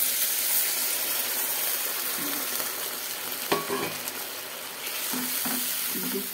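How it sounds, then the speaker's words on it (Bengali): Egg curry with ginger paste sizzles loudly in a pan, and a brief rush and splash near the midpoint marks water being poured in, after which the steady frying hiss carries on with a few soft stirring knocks. "এবার একটু জল দিয়ে দিলাম"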